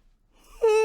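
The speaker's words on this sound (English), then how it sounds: "Compulsive yawn." A single human yawn, starting as a breathy intake and rising into a voiced, drawn-out tone that ends abruptly, close and fairly loud.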